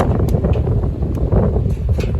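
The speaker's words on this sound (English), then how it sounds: "it's kind of windy today" Continuous wind roars and rumbles against the microphone beside a charcoal-making chimney, a dense, steady outdoor noise with no clear pauses.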